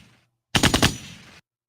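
A voice imitating a burst of gunfire, a quick rattling series of four or five percussive pops in under a second, close and loud, then silence.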